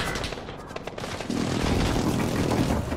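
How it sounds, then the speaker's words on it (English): Precision airstrike explosions in Call of Duty Warzone: a rumbling barrage of booms and crackling blasts, rough and continuous, rising into a heavier sustained roar midway, loud and close. "Enemy precision airstrike. Take cover."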